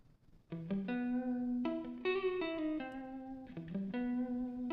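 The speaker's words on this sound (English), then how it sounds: "So another thing we can do to it, we can add reverb." A sustained guitar playing a few notes and chords, drenched in reverb so each note rings out and blends into a full, spacious wash.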